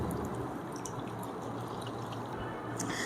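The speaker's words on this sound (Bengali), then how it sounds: "তো ভিজিয়ে বন্ধুরা এরকম করে চিপে নেব।" Water squeezed by hand from soaked bread slices, a steady close drip and trickle of liquid continuing throughout with small splashes, no voices.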